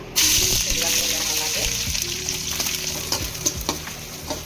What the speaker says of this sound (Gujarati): તેલમાં પહેલાં આપણે બધા કેપ્સિકમ નાખશું